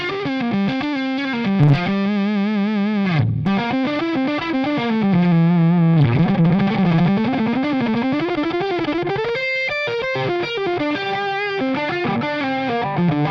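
Electric guitar through a Victory V30 Countess amp with the gain cranked high, giving a thick distorted tone with bending, wavering lead lines and a brief break near the start, loud and continuous with no speech.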